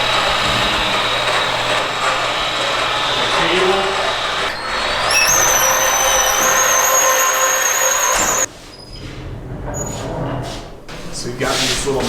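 A reel mower's cutting reels being sharpened on a grinding machine, the same process used for greens mower reels: a steady loud mechanical grinding whine that rises in pitch midway, then drops off near the end while a person talks throughout.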